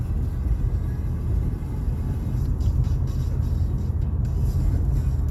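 A 2017 Honda Civic Type R engine hums steadily while driving, a constant low drone with road rumble and no individual revs standing out.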